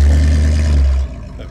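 A Stingray car engine at a classic car show revs hard and loud close by for about a second, then the roar drops away abruptly to a quieter idle.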